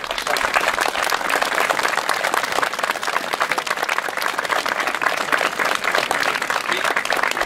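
An audience gives sustained applause for Gilberto Salmoni, a camp survivor honoured at a deportation memorial ceremony in Coreglia Ligure. The clapping is dense and steady and fills the whole stretch without a break.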